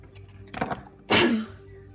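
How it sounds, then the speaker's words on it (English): A person sneezes once up close: a short sharp intake of breath, then a loud explosive burst that trails off over about half a second, over a faint steady background hum. "Sorry, I'm sneezing."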